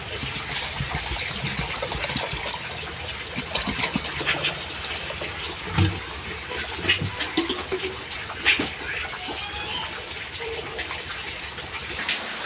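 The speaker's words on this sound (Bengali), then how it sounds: "মাখানো হয়ে গেছে এখন পরিমাণ মতো পানি দিয়ে দেবো" Water is poured into a pot of washed rice, lentils and potatoes mixed with spices for khichuri, a close, continuous gushing splash with a few clinks partway through.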